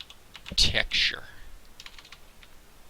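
Keyboard keys clacking as a command is typed into a Windows command prompt, a short burst of taps up close with a voice speaking briefly over it.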